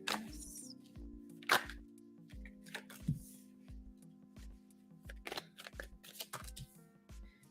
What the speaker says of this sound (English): We're still shuffling here.